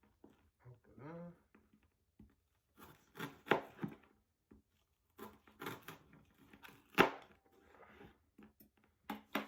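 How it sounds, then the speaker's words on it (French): A knife chopping an onion on a wooden board: scattered, close tapping bursts with pauses between them, mixed with a speaking voice. "Maintenant que nous avons émincé notre oignon"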